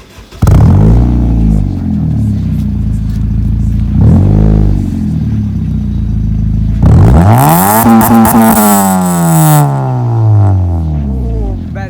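A modified Honda Civic with a MagnaFlow muffler starts up loudly and revs a few times, its exhaust rising in pitch, settling, then flaring into a stronger rev before dropping back to idle, all close up.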